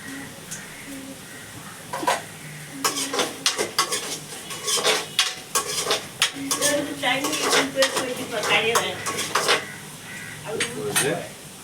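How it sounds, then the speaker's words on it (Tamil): Beans stirred in hot oil in a pan with a faint oily sizzle and repeated scraping and clinking of a metal spoon. "அந்த எண்ணெயில் போட்டு நன்றாக வதக்க போகிறோம்"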